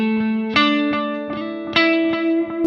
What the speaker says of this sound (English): So I want to go to the echo delay maybe first.